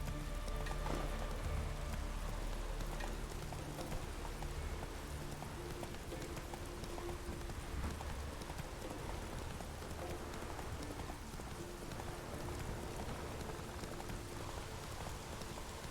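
Geralt's horse Roach gallops in The Witcher 3, hooves drumming in a steady fast rhythm under a constant rain-like wash for the whole stretch, with no speech.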